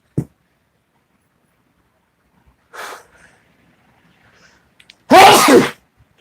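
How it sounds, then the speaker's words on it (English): A single sharp sneeze bursts out loudly near the end, after a quiet pause with a faint breath or sniff. "I'm going to sneeze."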